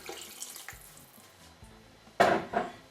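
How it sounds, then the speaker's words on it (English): Water is poured into a cooking pot for garlic soup, a soft splashing trickle at close range that swells into a louder, brief pour near the end. "grab some water, and I just want you to pour it more or less to about 3/4 of the pot"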